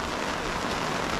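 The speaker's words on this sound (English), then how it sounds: "I love the sound of the rain." Torrential tropical rain pours down during a downpour in the Philippines, a dense, steady hiss of water with no letup and no voices.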